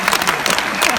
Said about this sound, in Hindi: एक बार तालियां बजा दें दोस्तों।